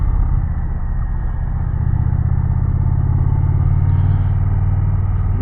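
A 2025 Indian Challenger motorcycle's exhaust drones steadily and loudly while riding near Bear Mountain, with a deep, continuous low rumble and no breaks.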